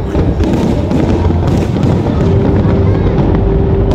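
Loud National Day Parade fireworks over Marina Bay Sands, Singapore, burst continuously, a dense barrage of booming thuds and crackling pops overlapping with little pause.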